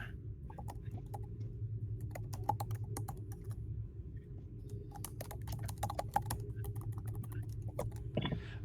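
Fast, hard keystrokes clatter on a computer keyboard in irregular bursts, close but quiet over a steady low hum, with no voices.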